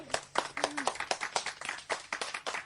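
Applause from a small group, a rapid run of sharp, close claps with uneven rhythm filling the whole stretch at moderate loudness.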